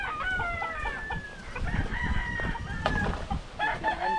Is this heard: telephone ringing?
no